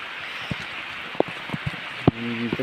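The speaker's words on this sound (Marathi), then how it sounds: "पाऊस काय थांबायचं नाव घेत नाही" Heavy monsoon rain falls in the Konkan countryside, a steady hiss in the background, broken by scattered close drips and knocks and a brief tonal sound near the end.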